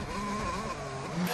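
Onboard sound of Max Verstappen's Formula 1 car, a loud, close, high-pitched engine whine holding steady with small shifts in pitch.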